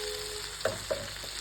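Spiced gobi rice mixture with garam masala and a little sugar stirred in a frying pan, a steady soft sizzle with a few clacking scrapes of the spoon, close and quiet, no voices.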